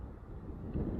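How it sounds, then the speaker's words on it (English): Cold wind gusts across a mountain viewpoint in the Mount Shasta area, a steady low rumble of buffeting against the microphone that swells louder near the end, with no voices. "but cold and windy up here."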